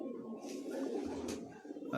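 A pigeon coos softly in a home loft, low and muffled amid a faint room hum, with a brief rustle partway through.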